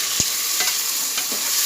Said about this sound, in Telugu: గరం మసాలా వేసుకుని బాగా వేయించుకోండి.